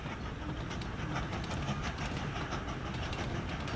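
A train pulls away in the Train Valley video game, giving a steady, dense rumble of rolling wagons with light rhythmic clatter, continuous and fairly loud.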